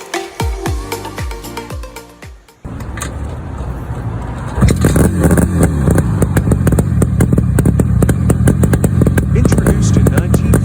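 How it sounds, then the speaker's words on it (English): A 1953 Motobi 100cc two-stroke classic motorcycle engine starts a few seconds in, settling into a loud, close, continuous buzzing run with rapid crackling firing pulses. "The Iconic Motobi 1953 spring lasting to 100cc motorcycle."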